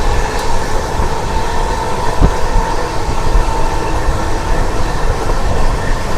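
Steady rumble and rattle inside a crowded general coach of the Coromandel Express running from Chennai Central to Shalimar, loud and continuous with no talk.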